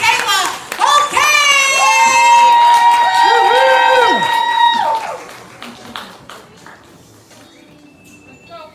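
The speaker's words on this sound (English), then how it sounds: "keep clapping, keep clapping, keep clapping. Give it up for Mike Kayla." An audience at a poetry slam claps and cheers loudly for about five seconds, with whoops and shouted voices over the clapping, before it fades to lighter scattered claps and murmuring.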